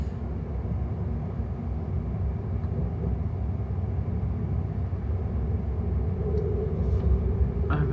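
A TfL Rail train rolls into Shenfield station, its low, steady rumble heard from inside the carriage, with a faint hiss and a few small clicks toward the end.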